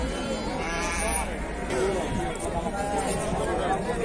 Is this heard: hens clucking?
no